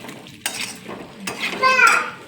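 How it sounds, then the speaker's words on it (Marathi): A spoon scrapes and clinks in a pan while stirring a spiced raw banana curry over low heat, a few short close stirring strokes, with someone talking over them. "हे कमी गॅसवरतीच हे करायचं आणि हलवत राहायचं आहे"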